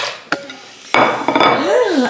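Dishes and plates being handled in a home kitchen, with a sharp clink, then a louder clatter of crockery and cutlery knocking together, close and bright, with a brief voice-like tone near the end.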